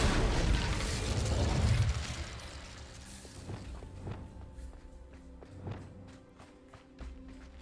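An Incendio fire spell cast in Hogwarts Legacy: a loud roaring whoosh of flame for the first two seconds, then fading into combat clatter, footsteps and repeated thuds.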